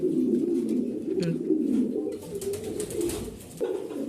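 A pair of White Danish pigeons coos close by in low, throaty, rolling bursts that repeat throughout, loud and clear with no talking.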